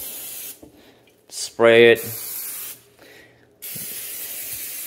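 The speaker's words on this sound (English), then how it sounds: "give it a good spray. That way our rub sticks." Short bursts of hissing spray onto a turkey before smoking, close by, with a few brief pauses between them and a quick voiced sound in the middle.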